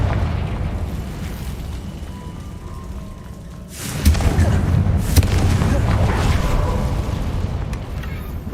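A Confringo fire spell from Hogwarts Legacy bursts with a loud boom about halfway through, followed by a rumbling crackle and a second sharp pop that fade out after an ambient opening.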